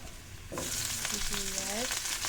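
Garlic sizzling steadily in a hot pan for fish curry in an outdoor dirty kitchen, a quiet start giving way to loud, constant frying hiss with a brief voice tone partway through.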